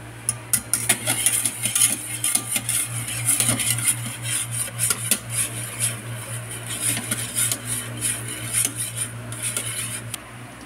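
Repeated scraping and clinking of a utensil stirring a dessert mixture in a pot until it boils, steady and close, over a constant low stove hum.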